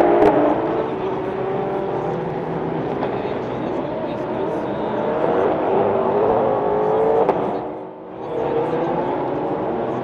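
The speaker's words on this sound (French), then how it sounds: "Les 3 Ferrari s'élancent devant l'ensemble du peloton pour le tour de chauffe" Three Ferrari race cars revving as they pull away on the warm-up lap at Imola, a loud, steady engine roar with rising and falling pitch sweeps, briefly dipping near the end.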